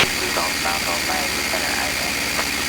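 A P-51 Mustang's piston engine drones steadily in flight from inside the cockpit, a continuous loud hum.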